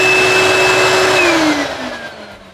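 A shop vacuum wired to an Ortis auto relay switch keeps running after the miter saw is shut off, a loud close steady whine that then drops in pitch and fades as the motor spins down.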